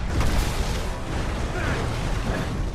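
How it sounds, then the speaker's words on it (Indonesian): A hand grenade explodes inside an aircraft in a film, a loud, dense rumbling blast with broad noise that stays heavy and sustained throughout, with no clear separate bursts. "Sebuah granat tangan terlepas, meledak dan menghancurkan wajah Kruger"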